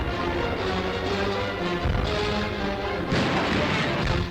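Artillery fire in World War II newsreel footage, several heavy booms landing among muffled background rumble, fairly loud throughout with no speech.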